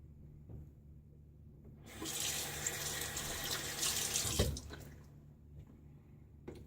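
Bathroom tap gushing water into a sink for shaving, switched on for about two and a half seconds between quiet moments, with a short splash as it shuts off.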